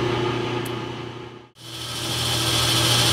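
A lathe cutting ceramic prototyping material gives a steady, close mechanical drone with a constant hum, dipping briefly to near silence midway before building back up, with no speech.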